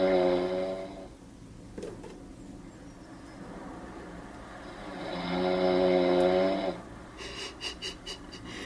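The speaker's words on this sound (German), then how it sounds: "kannst du auch so schnarchen?" A person snores loudly with long, rasping wheezy breaths, one at the start and another heavier one midway, followed by short rhythmic breathy puffs, close and alone in a quiet room.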